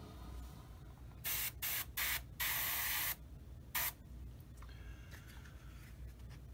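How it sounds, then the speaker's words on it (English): Short bursts of an airbrush spraying light olive drab paint onto a 1/35 scale Tamiya M3A1 Scout Car model, several hissing blasts of varying length separated by quiet pauses, close and clear. "I'll spray just a little bit on the bottom here"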